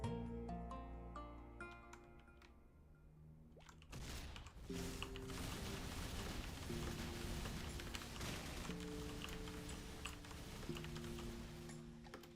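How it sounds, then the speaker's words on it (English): Loud computer keyboard typing heard during a livestream, a steady clatter of key taps running throughout over background game music with sustained tones. "I do apologize for the very loud keyboard tapping."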